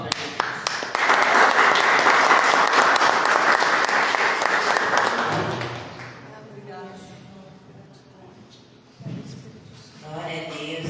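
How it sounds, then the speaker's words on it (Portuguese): A church congregation bursts into loud, dense applause that holds steady for several seconds, then fades into quieter room sound as voices and shuffling take over near the end. "Uma salva de palmas para Jesus."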